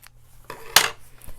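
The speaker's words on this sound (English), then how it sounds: "And then cut your thread." Scissors snip sewing thread after stitching a fabric face mask, giving one sharp close metallic cut amid a few soft handling taps.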